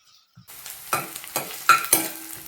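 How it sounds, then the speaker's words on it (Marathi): Raw onion lightly roasting in a pan for butter chicken masala, starting after a moment of quiet, then a sizzle with several distinct stirring scrapes, close and fairly loud. "अगदी आपण एखादा मिनिट फक्त असा अगदी कच्चट असा कांदा भाजून घेतलेला आहे"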